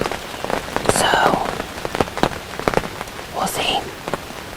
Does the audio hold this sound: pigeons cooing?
no